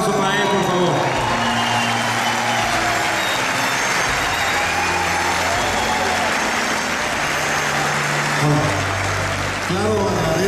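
A theatre audience at a posthumous tribute at the Teatro Metropolitan claps for an introduced guest, with a broad continuous wash of applause and crowd murmur throughout and a steady low rumble underneath.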